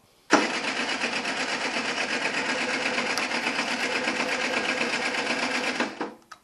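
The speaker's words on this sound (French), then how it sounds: "C'est juste que je suis en BR10, donc ça a un peu de mal à démarrer." A Yamaha TZR moped with an AM6 engine and a BR10 setup, known to be hard to start, buzzes loudly and close for about six seconds in a steady, raspy drone before cutting off abruptly.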